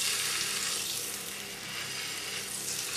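Pork sizzles in a hot pan as its skin browns, giving a steady, loud hiss with no talking.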